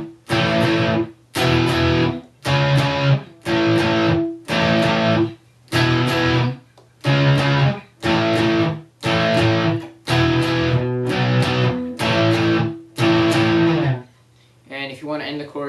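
An electric guitar, lightly distorted, plays a full chorus as a run of about a dozen steady, evenly spaced strummed chords. The chords are loud and close and play alone, with no voice over them.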